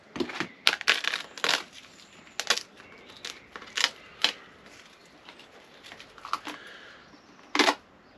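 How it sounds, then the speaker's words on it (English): Thick Raptor liner rubber coating peeled by hand off a Sprinter van, giving irregular crackling, tearing bursts, some sharp and loud, some softer, with short pauses between pulls. "I'm just going to do another satisfying job of peeling all of this."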